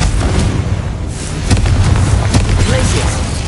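Confringo blast curse explosions in a wizarding video game: repeated booming bursts over a steady rumble, several close loud blasts in quick succession.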